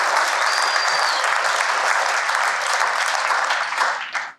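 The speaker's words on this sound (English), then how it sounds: "You can clap for that." A conference audience bursts into sustained, dense applause, steady and loud for about four seconds before cutting off abruptly.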